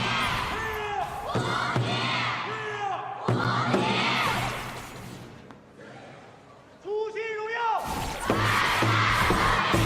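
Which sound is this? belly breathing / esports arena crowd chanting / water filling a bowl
esports arena crowd chanting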